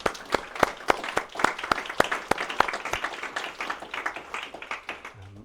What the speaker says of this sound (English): please join me in a round of applause for everyone contributing to housing justice